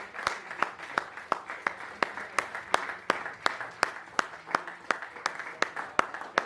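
A church congregation clapping in a steady, rhythmic beat during worship to acclaim Jesus, about three claps per second, fairly close and loud, with faint voices underneath.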